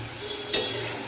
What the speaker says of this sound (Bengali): এদিকে এবার লাল শাক ভাজা হচ্ছে